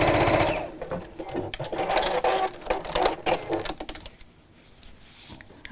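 A sewing machine stitches back over a missed section of a festive fabric zipped pouch, running in steady bursts up close and quieting near the end.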